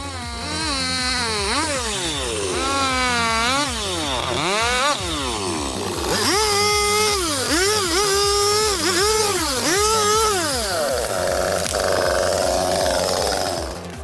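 A chainsaw cuts through wood, its engine whining up and down in repeated surges as the blade bites and revs, loud and close throughout.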